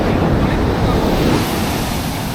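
Ocean waves wash steadily onto a beach along the East Coast Road near Chennai at night, a loud, close, continuous surf roar with wind noise on the microphone.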